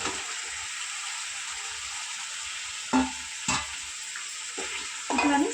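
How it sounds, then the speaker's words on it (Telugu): Chicken and curry leaves fry in a hot pan for gongura chicken pulao, giving a steady close sizzle with a few louder scraping stirs near the end. "కరివేపాకు వేసేసుకొని కలిపేసుకొని చికెన్ వేసేసుకున్నాము"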